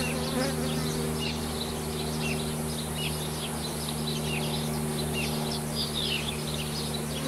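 Dense, continuous buzzing of honeybees swarming around an opened hive during an inspection, loud and close throughout, with faint bird chirps in the background.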